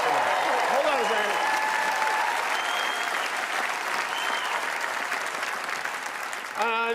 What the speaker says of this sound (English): I know you're clapping